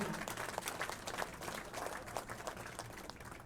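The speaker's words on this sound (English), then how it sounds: "Give yourselves a round of applause." Audience applause at a youth bowling awards ceremony in a bowling alley, a dense, steady wash of many hands clapping that fills the room without a break, with no speech over it.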